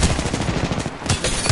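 Rapid automatic gunfire in a PS4 shooter video game, a loud close burst of quick shots with a brief pause before more firing resumes.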